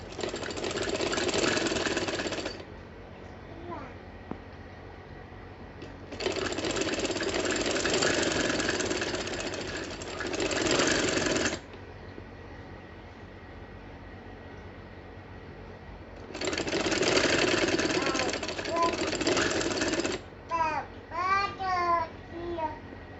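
A sewing machine stitches cord piping onto a small half sleeve of a girl's kurti in three long whirring runs, with quiet pauses between them and brief talk at the end.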